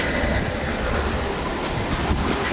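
A Chevrolet inline-six engine idles in a worn 1965 Chevelle wagon, producing a continuous, even, rumbling drone held at a steady level throughout.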